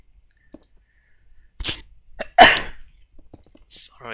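A single sharp human sneeze bursts out loudly amid near silence, framed by a few faint clicks and a short breathy sound shortly after.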